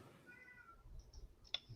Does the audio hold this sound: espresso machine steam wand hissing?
no